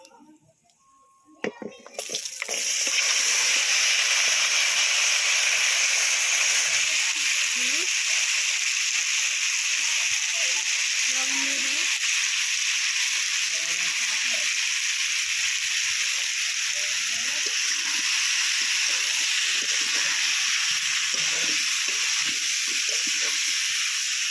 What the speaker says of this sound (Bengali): এবার কেটে রাখা এসর আলু দিয়ে দেবো